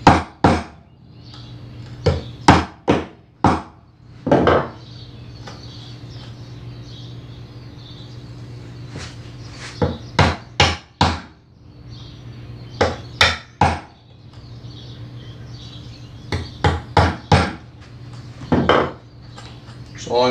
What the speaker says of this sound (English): Chopping out the tails is tons easier than chopping out the pins.